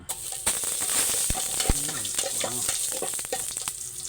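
Garlic frying in a pan, a steady bright sizzle with scattered clinks and scrapes of a utensil against the pan throughout.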